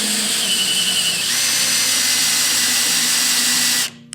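A power drill drives screws into the wooden roof of a birdhouse, whining loud and close in one continuous high-pitched run for nearly four seconds before cutting off abruptly, leaving a faint click.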